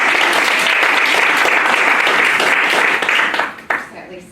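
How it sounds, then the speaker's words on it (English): Audience applause at a lifestyle design talk, loud dense clapping sustained for about three seconds, then thinning out and tapering into scattered claps and a few voices. "let's give Dee a round of applause."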